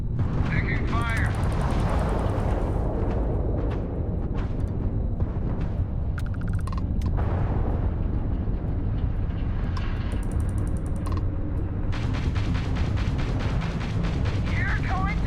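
Gunfire and explosions from the video game Starfield, a dense continuous barrage of shots and blasts with booming low rumble throughout, loud and close, with brief game voice lines mixed in.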